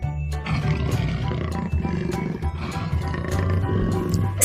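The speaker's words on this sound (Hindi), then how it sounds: "This is a tiger" A tiger roars in a series of deep, rumbling growls that continue without pause at close range, loud and dominating, with no talking.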